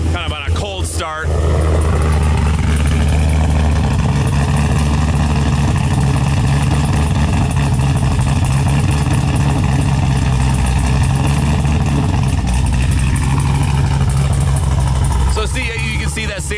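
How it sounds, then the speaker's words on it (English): A Camaro ZL1 1LE V8 fitted with an aftermarket stage cam idles loud and close on a cold start, its lumpy, choppy rhythm steady for most of the stretch, with a brief blip at the start and throttle activity near the end. "I did do a warm-up cycle and kind of a bass tune, just so you guys can hear the cam. Kind of on a cold start."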